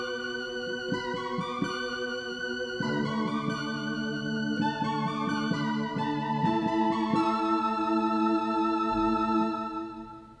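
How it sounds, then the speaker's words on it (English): A classic 1980s-style vibrato synth keyboard patch sustains layered chords with a wavering, shimmering tone, changing chords every couple of seconds, played alone and fading at the end. "Next is what we call a classic 80s vibrasynth"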